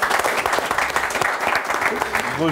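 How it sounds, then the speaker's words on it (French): A crowd at a freestyle rap battle gives loud, sustained clapping and cheering for a contestant, with a voice speaking over the applause. "j'aimerais vraiment un tonnerre d'applaudissements, un encouragement de fou pour Théo Babac"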